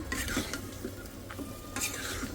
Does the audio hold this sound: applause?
no